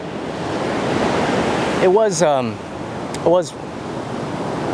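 Beach waves make a continuous broad rush of surf and wind up close, with a few short voice-like calls cutting through partway.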